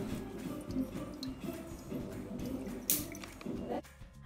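Spiced pani puri water mix pours through a sieve into a bowl, a busy wet stream of drips and squishy liquid splashes running steadily and close for a few seconds, with a brief sharper splash near the end.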